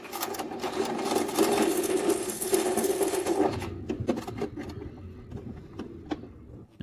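A domestic sewing machine with a bobbin, just fixed after its thread kept tangling, runs and stitches in a steady close whir, then stops, leaving a few light clicks and taps.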